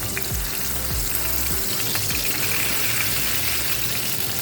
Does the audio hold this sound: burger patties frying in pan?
yes